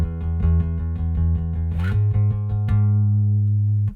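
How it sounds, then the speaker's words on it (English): Bass guitar plucked with the fingers for a worship song bass part, playing a steady run of sustained low notes that step between pitches, the last note ringing out longer, with no voices. "One is with my fingers, it'll sound like this."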